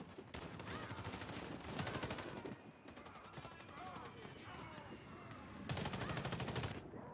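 Light machine gun fire in the Warface shooter on Nintendo Switch, long rapid bursts of automatic shots with brief pauses between them, recorded fairly quietly and with no talk.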